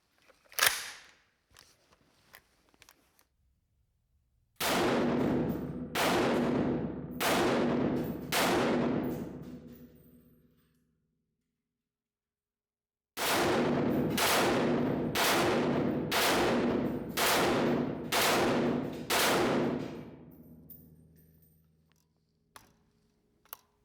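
An older German-designed, Spanish-finished CETME full-auto rifle fired at an outdoor range, first a few scattered single shots, then two loud long stretches of rapid repeated fire with decaying echoes between bursts, close and sharp, with no talking.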